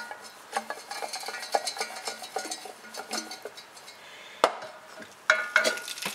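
Pan-fried sea bass being tossed in a pan with vanilla butter, rapid clinking and stirring clatter of metal against the pan over a soft sizzle, with a few sharper knocks near the end, close and fairly loud.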